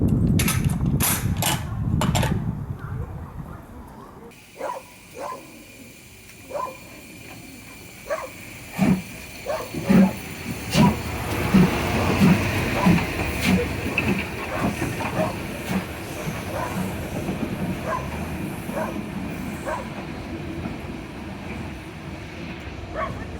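A steam train on the Ecclesbourne Valley Railway heard from inside a carriage: rhythmic clacking of wheels over rail joints at a steady pace under a rumbling hum, with brief voices early on.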